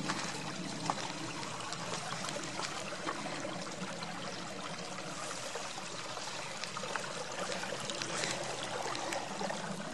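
Creek water flowing over stones in a rocky creek bed on Second Water Trail in the Superstition Mountains, a steady, even rushing and trickling wash that stays faint and continuous, with no voices.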